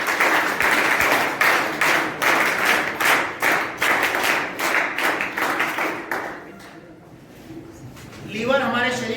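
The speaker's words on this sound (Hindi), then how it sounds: "ए भैया आपकी ताली चाहिए।" Dense applause from a seated audience, sharp and steady for about six seconds before fading out, with a voice speaking briefly just as it dies away.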